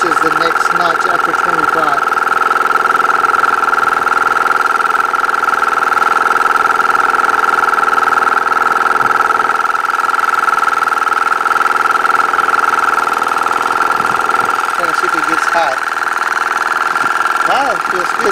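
An Audew dual cylinder 12V air pump runs with a steady, loud mechanical drone and hum that holds evenly for the whole stretch, close by.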